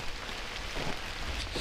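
Rain falling steadily on a hiker's rain overcoat and the forest around a trail in Forestville Mystery Cave State Park, Minnesota, a soft, even patter with no voices.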